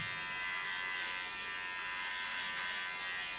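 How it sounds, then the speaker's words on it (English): Electric hair clipper cutting hair along a line during an asymmetric cut: a steady, close, high-pitched motor buzz that holds evenly throughout, heard alone without talking. "just when I get to the cutting line I take my clipper up"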